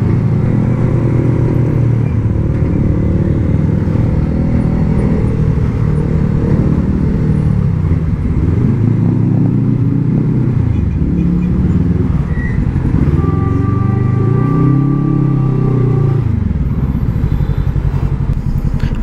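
Heavy motorcycle traffic jams a road in the Philippines, a continuous loud drone of idling and revving engines with rising and falling motor pitches close by, no talking over it.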